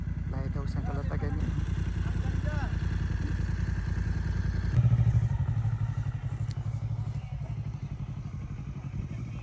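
A 2024 Kawasaki Versys 650 big bike rolling near the Calatagan lighthouse, its steady mid-pitched engine drone running throughout with a slight rise partway, close to the mic, with a voice talking over it.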